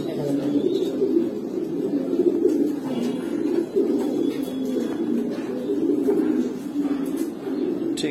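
Giribaz pigeons coo steadily in a loud, continuous chorus of throaty, rolling calls, close by and layered over one another with no clear pauses.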